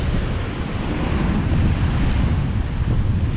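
Loud, steady roar of stormy sea surf at Blackpool mixed with heavy wind buffeting the microphone, a continuous rushing wash with no voices.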